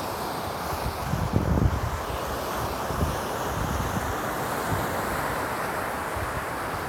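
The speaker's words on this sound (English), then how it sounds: "the waves are like crashing against these rocks and there's an island breeze" Waves crash against rocks on an island shore while a steady breeze blows across the microphone, giving a constant broadband wash with a slightly louder surge early on and no talking.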